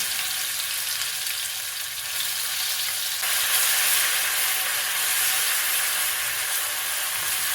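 Green chili, ginger, garlic and coriander paste sizzling loudly in hot oil with popped mustard seeds and cumin, a steady dense frying hiss that swells brighter partway through, close and without voices.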